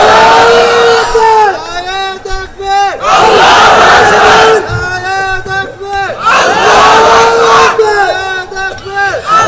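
Large crowd at a religious gathering chanting a takbir in repeated loud massed calls, several rising-and-falling chanted phrases from many voices, close and overwhelming.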